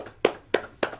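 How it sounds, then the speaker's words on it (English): Three slow, evenly spaced hand claps, close and crisp, each a single sharp slap with a short decay, alone with no talking. "sad claps for myself"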